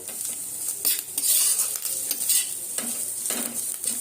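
Egg pasta stirred and fried in oil in a pan, with loud sizzling and repeated scraping strokes of a utensil against the pan, close and alone without talk.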